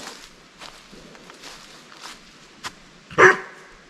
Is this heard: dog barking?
yes